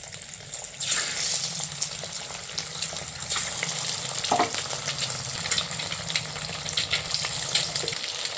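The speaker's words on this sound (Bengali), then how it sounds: "ওগুলো এক এক করে আমি তেলে ছেড়ে দেবো। দিয়ে সুন্দর করে 2 পিসটা ভালো করে ভেজে নেবো।" Halved boiled eggs frying in hot oil for a spicy Bengali egg dish, a steady close sizzle with occasional louder spits and stirring scrapes.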